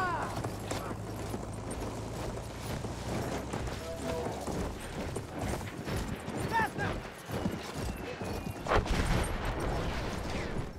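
A horse gallops in the video game Battlefield 1, with steady hoof clip-clop under dense battle noise, crashes and clatter, while a player talks over it.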